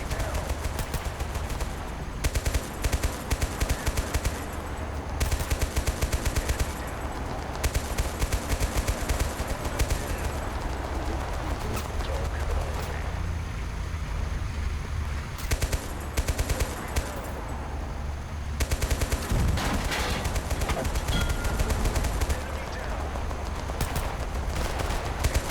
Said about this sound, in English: Do we take damage from small arm fire?